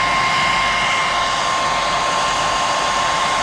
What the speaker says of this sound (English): we're going to use the hairdryer again